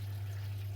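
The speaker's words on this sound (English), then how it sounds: "the water's coming down here to this pipe here" Water flows down into the pipe of a twin Vidao CO2 reactor as a steady close trickle and gurgle over a constant low pump hum, with no talking.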